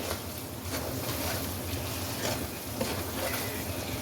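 Cooked dal karela sabzi being mixed in a pan, a continuous close sizzle with soft scraping stir strokes throughout, no voices.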